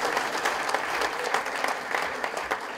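An audience at a heart care foundation's annual day function applauds a trustee, a sustained, moderately distant spread of many hands clapping at a steady level throughout.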